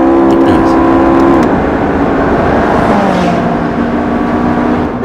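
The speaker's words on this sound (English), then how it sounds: "Nice noise from an exhaust that has had 7 kilos taken out of it" A McLaren 675LT supercar with 666 bhp and a lightened exhaust gives a loud, close engine note, its droning exhaust tone holding and then shifting in pitch as the revs change, continuous throughout.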